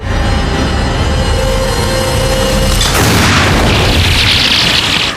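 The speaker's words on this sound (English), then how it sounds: "Taggart's giant crossbow was ready to fire." A giant crossbow releases with a deep booming thump, then a crashing burst as the bolt strikes, loud and dramatic over a continuous rumbling bed.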